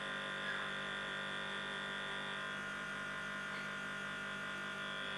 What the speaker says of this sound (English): So I'm just using the wind just to dry that mascara.